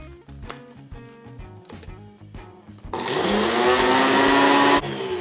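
A food processor pulsing keto breadcrumbs, with a few short choppy bursts of whirring, then a longer loud sustained whir that cuts off abruptly.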